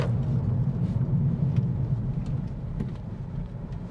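A 2026 Acura Integra A-Spec driving in Sport mode, heard from inside the cabin as a steady low road rumble and engine drone with no voices over it.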